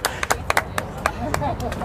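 Scattered hand claps ring out from spectators at a women's World Cup petanque match between Turkey and England, sharp uneven bursts over a murmuring crowd with people talking.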